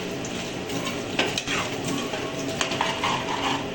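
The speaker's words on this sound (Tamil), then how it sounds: "துருவி வச்ச தேங்காய் இதையும் போட்டு நல்லா கிளறிட்டு ஒரு 5 நிமிஷம் வச்சுட்டு" Mutton intestine fry with grated coconut being stirred in a pan: a continuous close hiss of frying with repeated scraping and clacking from the utensil against the pan.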